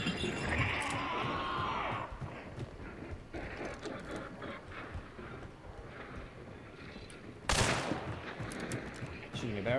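Gunfire in Hunt: Showdown, a rough run of shots and game clatter with one sharp, louder bang near the end, and a voice speaking faintly under it.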